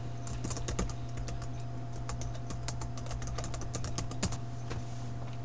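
Rapid, uneven clicks of typing on a computer keyboard run steadily throughout while a password is entered, close and fairly quiet over a faint background hum.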